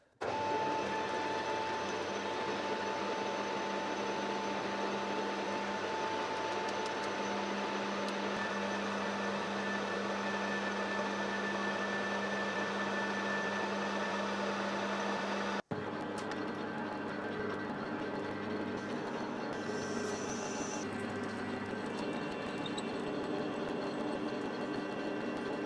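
Metal lathe parting off a turned spinning top, a steady loud machine drone with whining tonal hum that abruptly shifts partway through and then carries on at a lower level.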